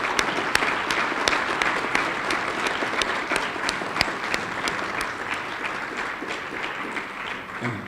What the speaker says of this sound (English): Please join me in giving a round of applause to the candidates for the chief